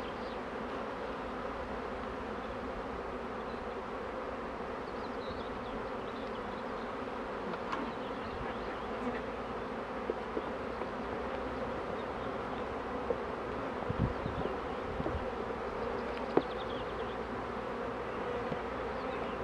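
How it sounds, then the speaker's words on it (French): A honeybee swarm hums steadily throughout, a dense, even drone at moderate distance with a few faint individual bees passing nearer. "C'est normal qu'il y ait encore des abeilles au-dessus."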